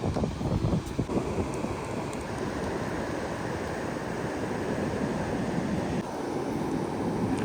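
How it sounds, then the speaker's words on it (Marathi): Sea waves at high tide roll and wash steadily against the shore at Kelshi Beach, Konkan, a continuous broad surf roar with gusts of wind, no voices. "लाटा बघ कसल्या आल्या"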